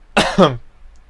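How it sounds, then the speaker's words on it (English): Two harsh coughs in quick succession, close and loud, followed by quiet. "pardon me for the coughing fit for some reason."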